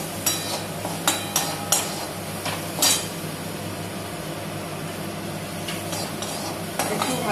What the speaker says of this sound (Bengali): তারপরে এটা নাড়তে থাকবো